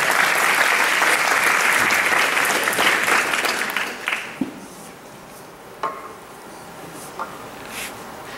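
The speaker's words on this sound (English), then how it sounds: "Please, a nice round of applause for contestant number one." An audience at a state fiddle championship applauding a contestant, a full burst of clapping that fades after about four seconds into scattered claps and room noise.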